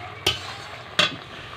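A spatula scrapes through boiled pumpkin in a pan, giving two short, clear scraping strokes over a low simmering background.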